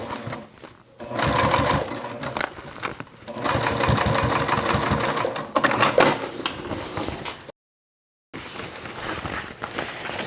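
A sewing machine runs in loud, rapid bursts while top stitching beside a zipper on a crossbody bag, with short pauses between runs and a brief silent gap near the end.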